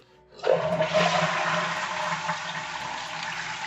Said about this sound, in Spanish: voy a hacer descargar lo que es el depósito para que se quede vacío